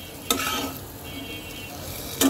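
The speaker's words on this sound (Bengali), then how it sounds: "জাস্ট তেলের মধ্যে একটু নাড়াচাড়া করা হচ্ছে" Spice paste being stirred in hot oil for a fish curry, with a continuous sizzle and two short scraping stirs of the utensil against the pan.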